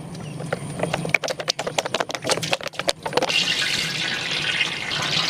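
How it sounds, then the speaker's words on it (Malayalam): Coconut oil is poured into an uruli cooking pot, a steady liquid hiss that follows a run of light taps and knocks against the vessel, all close by. "ഉരുളിയിലേക്ക് വെളിച്ചെണ്ണ ഒഴിച്ച് കൊടുക്കാട്ടാ."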